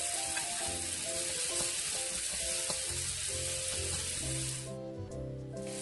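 Onions and tomatoes sizzling steadily in a hot pan, a close, continuous frying hiss with light stirring clicks, the sizzle thinning slightly toward the end.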